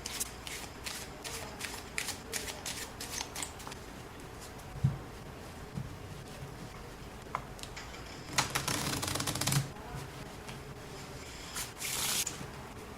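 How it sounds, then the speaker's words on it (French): A deck of playing cards shuffled by hand during a card magic trick, heard as close, quiet riffling and rapid clicking bursts separated by short pauses. "Et bien sûr, on va bien mélanger le paquet."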